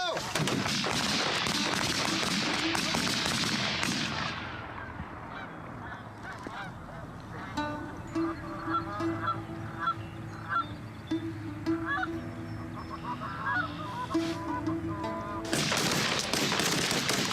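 Loud flock of snow geese and blue geese honking at an outdoor hunt, a dense chorus at the start and end with scattered calls and sharp shots in between.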